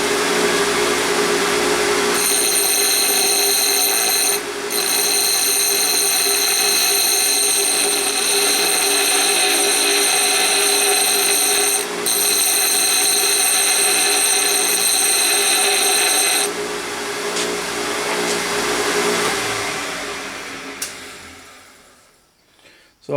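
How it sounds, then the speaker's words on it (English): A surface grinder wheel whines steadily while a dressing stick is pressed against it by hand to hollow the face. The tone is harsh and constant, briefly interrupted, then winds down at the end. "rather than use the diamond dresser, I use this dressing stick to hollow it out,"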